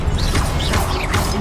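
A Confringo explosive spell is cast in Hogwarts Legacy, a loud crashing burst with whooshing swirls and a brief rumble, close and dense throughout.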